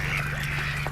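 Ducks honk and quack briefly inside a duck coop, a short, fairly close burst of calls over a steady low background hum.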